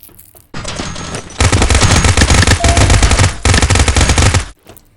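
Automatic gunfire in a shooting video game during snap shooting from cover: a short burst, then a longer sustained volley, loud and close, with a brief pause between.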